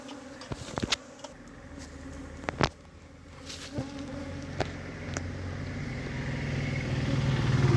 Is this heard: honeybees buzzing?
yes